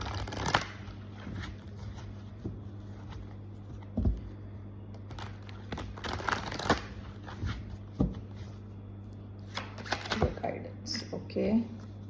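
A deck of tarot cards is shuffled in repeated quick riffles and soft slaps, close and fairly quiet, with a voice talking faintly around the shuffling.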